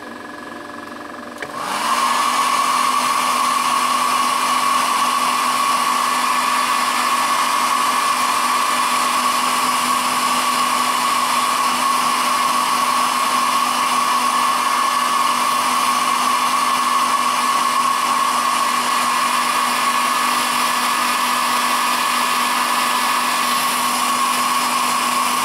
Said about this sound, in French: Je vais remettre un coup de sèche-cheveux.